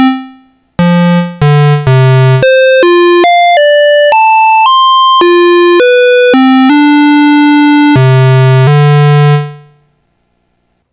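Korg ARP 2600 M oscillator 1 as a square wave through the filter, played as a loud melodic sequence of bright, buzzy held notes stepping up and down, ending on a sustained low tone that fades out.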